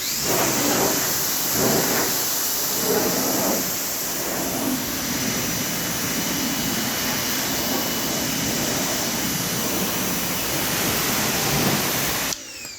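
A blow dryer roars steadily and loudly while drying a car's engine bay during touchless engine cleaning, a continuous broad hiss that holds for about twelve seconds before cutting off near the end.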